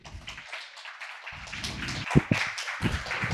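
Audience at a live Star Wars event in Quebec marking 25 years of The Phantom Menace claps in scattered, light bursts, soft and patchy with a few sharper slaps near the end.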